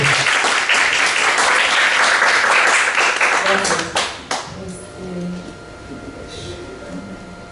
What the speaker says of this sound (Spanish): les pido por favor un aplauso muy afectuoso para María José.